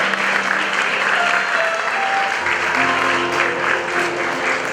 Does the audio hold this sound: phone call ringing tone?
no